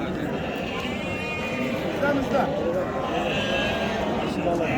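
Sheep and rams bleat now and then amid a busy outdoor crowd at a livestock market, with people talking throughout at a steady, fairly loud level.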